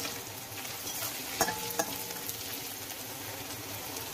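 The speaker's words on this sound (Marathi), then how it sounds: "आपण त्याच्यामध्ये आलं लसूण टाकून घेऊया त्या तेलामध्ये। पण तेलामध्ये चांगलं व्यवस्थित परतून घ्यायचं।" Ginger and garlic sizzle steadily in oil as they are stirred, with a couple of sharp clinks from a utensil against the pan.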